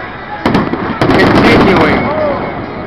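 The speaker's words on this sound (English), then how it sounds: "the 2023 Independence Day fireworks" Independence Day fireworks pop and boom in a loud, continuous barrage of overlapping bursts, with crackling and a dense rumble throughout.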